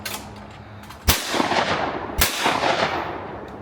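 Two loud shotgun blasts crack out at a sporting clays range about a second apart, each followed by a long rolling echo that fades into outdoor ambience.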